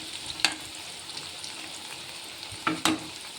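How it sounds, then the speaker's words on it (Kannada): Chana dal vade fry in hot oil with a steady, moderate sizzle and crackle, broken by a few sharp utensil clinks. "ಸೊ 2 ಸೈಡನ್ನು ಚೆನ್ನಾಗಿ ಫ್ರೈ ಮಾಡ್ಕೊಳ್ಳಿ ಇವನ್ನ."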